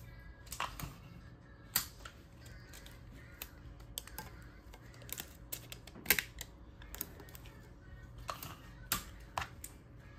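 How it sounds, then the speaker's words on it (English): Adhesive tape is pulled and pressed down onto a tumbler, making faint crackles and sharp little ticks and snaps at an irregular pace, close by in a quiet room. "I'm gonna run a long tape in the middle"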